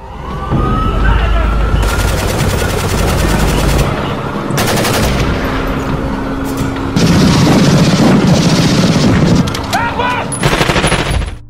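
Film shootout gunfire between kidnappers and a group of unknown attackers: loud sustained bursts of rapid automatic fire with booming shots and chaotic action noise throughout.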